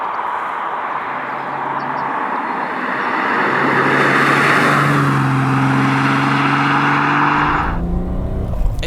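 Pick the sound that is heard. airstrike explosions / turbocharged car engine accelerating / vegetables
turbocharged car engine accelerating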